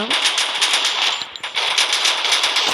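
Rapid automatic gunfire from the Free Fire video game, a dense stream of close, loud shots with a brief pause partway through, with no talking.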